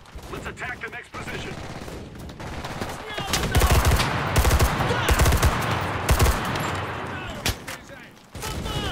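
Enlisted machine gun fire: dense, sustained rapid bursts of automatic shots, loud and close, mixed with other battle gunfire and brief talk.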